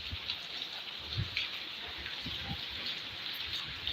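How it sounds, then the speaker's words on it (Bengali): Morning rain falls after days of intense heat, a steady close patter with a few heavier drips and soft thuds, and no one speaks. "সকালবেলা আলহামদুলিল্লাহ আল্লাহ রহমতের বৃষ্টি শুরু হয়েছে"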